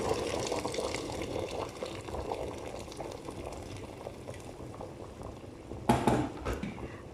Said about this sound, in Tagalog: Pakukuluan ko lang po sila hanggang po sila ay lumambot